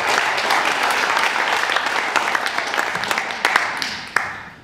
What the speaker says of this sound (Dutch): Eerst een heel groot applaus voor deze bedrijven.